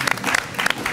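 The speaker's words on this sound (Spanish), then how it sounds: "aplauso de verdad" Applause from a studio audience on a television program, a brief burst of dense, lively clapping that continues throughout.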